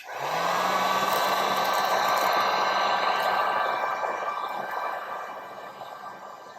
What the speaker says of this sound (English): again with the heat gun, just gently go over it.